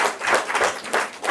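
A brief burst of audience applause, a dense patter of many hands that swells and dips in quick surges, fairly close and loud, with no speech over it.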